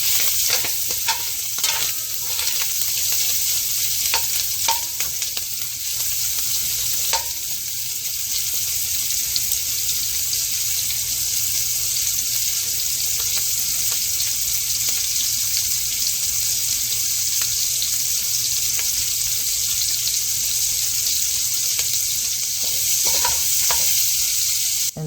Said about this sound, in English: Now I'm gonna go ahead and cook the beef summer sausage. I'm only gonna let this sear for like maybe about 2 minutes.